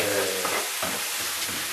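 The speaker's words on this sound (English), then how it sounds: "Keep stirring the beans." Beans and mince sizzling and being stirred in a frying pan, with a steady frying hiss and a few scraping stirs of the utensil, close up.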